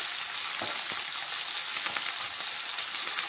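Flat beans and eggplant frying in a pan with green chilli, a steady crackling sizzle throughout with faint stirring clicks, close and alone.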